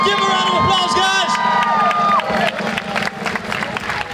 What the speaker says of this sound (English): Give a round of applause, guys.